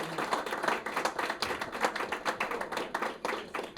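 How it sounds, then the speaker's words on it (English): A small audience at a family support group meeting claps for presenters, distinct individual hand claps in an uneven, fairly sparse rhythm at moderate volume. "Let's give our presenters a round of applause."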